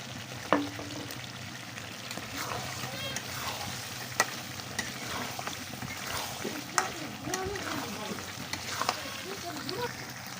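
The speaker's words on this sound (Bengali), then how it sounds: "তো এখন আমি এই পর্যায়ে এখানে টমেটোর সসটা দিয়ে নেড়ে চেড়ে নামিয়ে দেব।" Tomato sauce hisses and sizzles in a pan as chicken biryani meat is stirred through it, a soft steady frying sound broken by scraping clicks of the spoon, with a voice talking over it.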